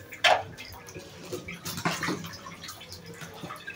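Water splashes in a bathtub as a three-year-old boy bathes, with one sharp splash near the start and softer sloshing and dripping after, close by and fairly quiet.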